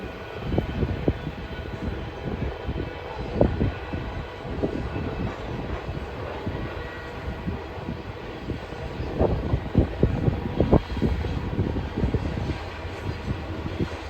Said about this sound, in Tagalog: Yan na yung train.